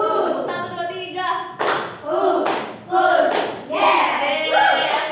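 A classroom of students claps a counted rhythm in short bursts of sharp claps, with voices chanting the count between and over the claps.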